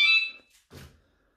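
A small motorcycle alarm being armed gives a short, high electronic chirp, followed by a softer second blip and a faint click, close and isolated.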